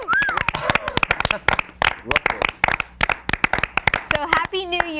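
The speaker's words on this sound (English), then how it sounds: "so big round of applause" A studio audience on a live TV talk show bursts into loud, sharp clapping with a whoop and cheering voices mixed in, the claps dense and close, over about five seconds.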